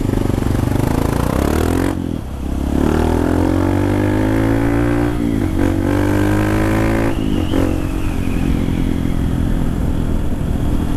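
A 2019 Honda Titan 160 motorcycle pulls away from a traffic light, its engine rising through repeated loud rev sweeps with gear-change dips, close and continuous, with no talking.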